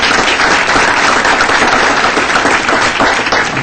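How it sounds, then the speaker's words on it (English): Sustained round of applause from an audience at a city council meeting, steady dense clapping filling the whole stretch without any voices over it. "give him a round of applause,"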